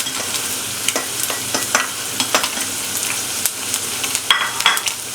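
Chicken stir-frying in a pan with freshly added carrots and capsicum, a steady sizzle broken by repeated scraping and clacking strokes of a spatula, close and fairly loud with no talking.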